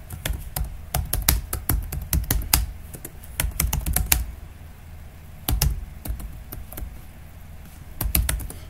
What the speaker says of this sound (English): let me type something different here.